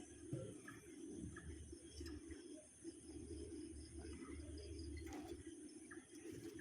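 A male pigeon cooing, low soft repeated coos close by over a faint background of insects and distant birds, steady and quiet with no talking.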